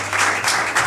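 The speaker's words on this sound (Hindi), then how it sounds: "जोरदार तालियों से स्वागत करें" A burst of loud audience applause at a provincial poetry selection competition, a dense crowd clapping that swells in short waves within the brief moment.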